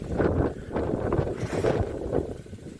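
Steady wind roars and buffets the microphone in a low rumble, with gusts that swell and fade throughout and no voices.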